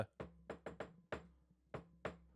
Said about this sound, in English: if you even heard the knock that happened there